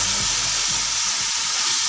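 Chicken pieces fry in a pan for biryani, giving a steady, close hiss of sizzling that holds evenly throughout. Faint stirring knocks sit underneath, and no one talks.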